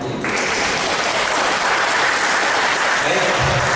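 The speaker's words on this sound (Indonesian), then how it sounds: "Tepuk tangan untuk itu." Steady applause from a seminar audience, loud and sustained for a few seconds, with no break in the clapping.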